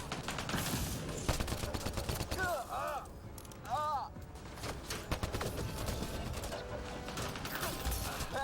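Rapid sustained gunfire and mechanical weapon clatter in Mass Effect: Andromeda combat, a dense crackling barrage throughout with brief whooshing effects midway, loud and continuous.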